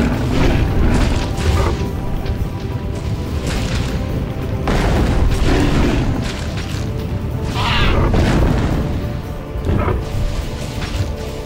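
Loud, booming explosions and gunfire from a Divinity 2 Ego Draconis battle come in heavy waves of crashing blasts that overlap almost without pause.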